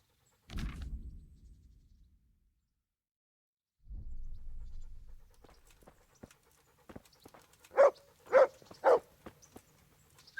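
Dog panting in the Kingdom Come: Deliverance game, a short burst of soft panting breaths, then a quieter stretch followed by three loud, sharp thuds near the end.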